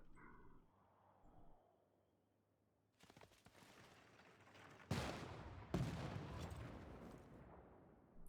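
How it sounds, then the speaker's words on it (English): Field cannons in a strategy video game pound steel walls, quiet at first, then dense bursts of gunfire and crashing impacts build into two loud blasts with sustained rumbling barrage. "Good luck with those field cannons knocking into steel walls."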